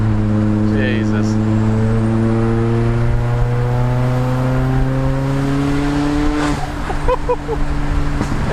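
380bhp Vauxhall Astra VXR accelerating hard on boost, loud close engine note climbing steadily through the revs, then a brief break as it shifts and pulls again.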